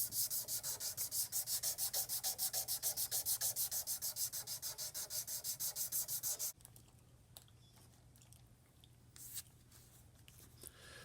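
Sandpaper scrubbing an old, cheap kitchen knife blade by hand, rapid rhythmic back-and-forth rasping strokes for about six seconds, then it stops and leaves only faint scattered scratches, close and fairly quiet.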